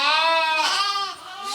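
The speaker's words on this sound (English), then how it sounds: "Sheep." Sheep in the Spanish countryside bleat loudly and close, one long wavering cry that rises partway through and fades out near the end, with no talk.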